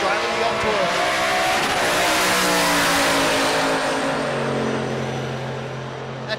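The El Toro race car roars past at race week, loud and close, its engine revving with a falling pitch as it passes, while an announcer talks over it.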